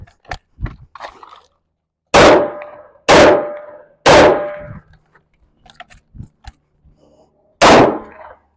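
Four sharp, loud pistol reports from a 1911 handgun at a shooting range, each a sudden broadband crack that rings briefly. Three come in quick succession about a second apart, then a pause filled with small handling clicks before a final shot.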